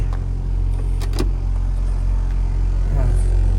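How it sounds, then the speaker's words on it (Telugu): A car engine idles steadily after start-up, a constant low rumble filling the short stretch with no big revs. "కార్ అయితే స్టార్ట్ చేసుకున్నాం"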